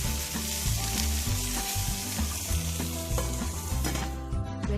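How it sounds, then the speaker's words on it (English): Garlic chicken sizzling in an AMC pot on high heat, a dense, steady frying hiss with crackles, close and continuous, with no voices. "I'm just going to cook it with AMC pot. Heat the pot on high heat."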